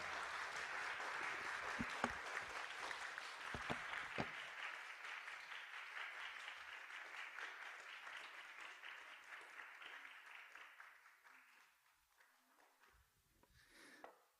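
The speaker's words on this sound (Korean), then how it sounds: "총장님 앞으로 모시겠습니다. 큰 박수 부탁드립니다" Audience applause welcomes the university president to the podium at a rehabilitation and independence faculty academic festival, a steady dense clapping that holds for about ten seconds, then thins and fades into near silence with a brief last burst.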